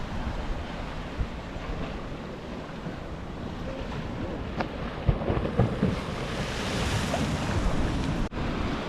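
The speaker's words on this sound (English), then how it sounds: "just to sit here and watch it and listen to the waves on a nice calming day like today" Steady broadband wash of sea waves breaking on the rocky shore at Tynemouth on a calm day, continuous and fairly near, with light wind rumble and no voices.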